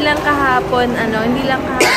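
A single cough breaks in near the end amid a woman's ongoing conversation, close and brief.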